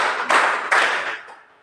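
Students in a classroom clap together in a rhythm game, two crisp, loud unison claps about half a second apart, then the sound trails off into quiet.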